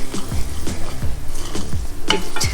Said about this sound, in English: Keep stirring it so that it doesn't burn, because now the pan is also hot